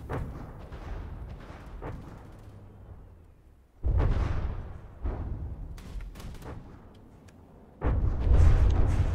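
A warship's main guns fire in a video game, with two heavy booming blasts spaced several seconds apart over a low rumbling background, plus fainter thuds between them.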